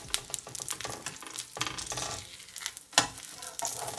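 Beef taco with cheese frying in a pan on low heat, with irregular scraping, tapping and flipping clatters over a soft sizzle, loud and close, no talk.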